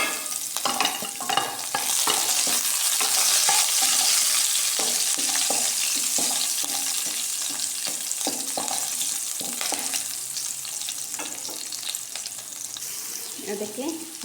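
Onions frying and browning in a pan make a steady, close sizzle for the whole stretch, with frequent scraping stirs and clinks layered over the crackle.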